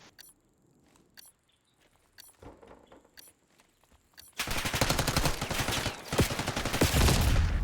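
Gunfire in a Black Ops 6 multiplayer gunfight: sparse sharp shots and clicks at first, then a loud dense burst of rapid automatic fire for the last few seconds.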